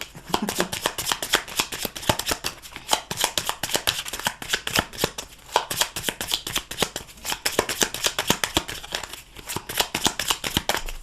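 A tarot deck is riffled and shuffled continuously, giving dense rapid papery slaps and flutters, loud and close, with no pauses in the stream.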